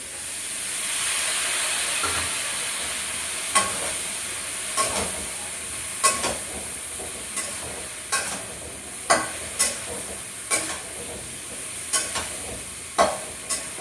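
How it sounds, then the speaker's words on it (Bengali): Spiced vegetable curry with turmeric, sugar and salt sautéing in a pan, a steady frying sizzle and steam hiss broken by a dozen sharp scrapes and clacks of a stirring spoon, close and alone with no talk. "এই মশলা তরকারি কষিয়ে নেবো।"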